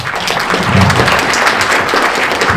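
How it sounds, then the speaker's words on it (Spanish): Audience applause at a public forum on murky city water in Guadalajara, a dense, steady wash of many hands clapping at full strength from start to finish, with no voices rising above it. "Por favor, un aplauso"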